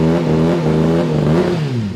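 A modified Honda CBR 600 motorcycle engine revs up close, its loud, buzzy tone holding steady and then climbing sharply in pitch on a throttle blip before settling back.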